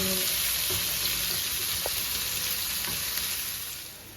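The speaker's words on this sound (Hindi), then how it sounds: "प्याज को जो है हम ज़्यादा ब्राउन नहीं करेंगे, कच्चा पक्का रखेंगे, यानी कि हल्की लाइट ब्राउन" Onions fry to a light brown for a bhindi tarkari, a steady, fairly loud sizzling hiss with a few faint stirring taps, easing off slightly at the end, with no one speaking.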